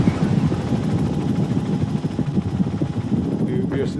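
A helicopter flies over an erupting volcano on Montserrat, its steady low rotor throb and engine roar loud and continuous throughout, with faint voices under it.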